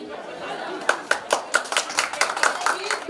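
Scattered hand claps from an audience at a sangeet, an Indian pre-wedding celebration. Sharp, uneven claps grow denser toward the end over a bed of background chatter.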